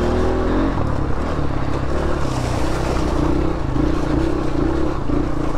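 A Honda CRF150F dirt bike rides along, its engine droning steadily and close with small shifts in pitch as the throttle varies, plus clattering and wind noise.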